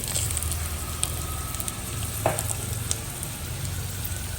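Curry leaves and turmeric powder frying in oil in a pan, a quiet steady sizzle with scattered small crackles and one brief scrape of stirring.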